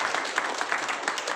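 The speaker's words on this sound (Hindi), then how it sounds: "एक बार बिलाल अहमद जी के लिए जोरदार ताली।" Audience applause for Bilal Ahmed at a talk: steady, dense clapping from a crowd, fairly close and sustained without pause.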